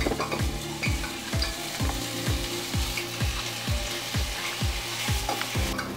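Sausage pieces fry in oil in a pan with a steady sizzle and crackle, while a utensil scrapes and stirs in regular rhythmic strokes, close by.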